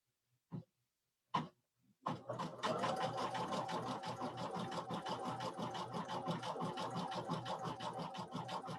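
Baby Lock IQ Designer embroidery machine stitching, a few short separate thumps first, then a fast, even mechanical rattle that runs to the end, close and moderately loud.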